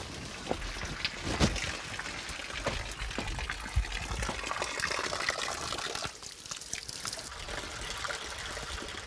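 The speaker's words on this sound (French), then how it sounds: "Là, tu vois, c'est la douche." Steady spray of running water from a seaside shower, continuous and close with faint splashes and trickles throughout.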